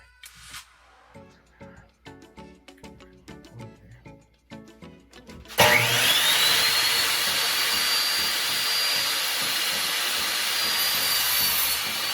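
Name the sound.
sawing wood for a blanket ladder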